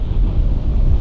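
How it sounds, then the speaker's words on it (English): Strong wind gusting near 40 on a tour-venue golf course, a steady loud roar of microphone buffeting that fills the whole second with no letup. "The wind's now picking up properly strong. Probably gusting near 40 now."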